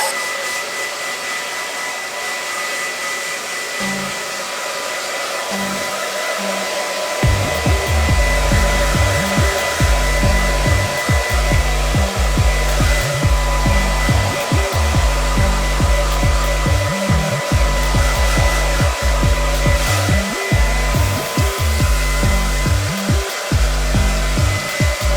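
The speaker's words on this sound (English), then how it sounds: "With a full heat and a full speed, they have to do the proper blow dry." A hair dryer runs at full heat and full speed for a blow dry in a haircut, a loud, steady roar that starts softer and then swells up and holds.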